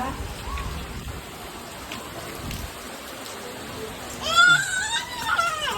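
The season's first rain falls in a steady, broad patter, with children's excited voices and shouts rising over it toward the end.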